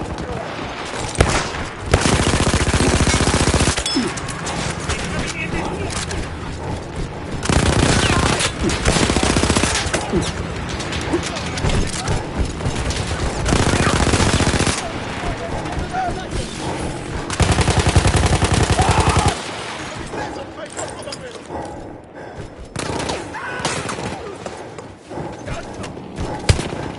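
A mounted machine gun in Battlefield 1 fires long, loud sustained bursts with short pauses between them, and the battle noise continues more quietly toward the end.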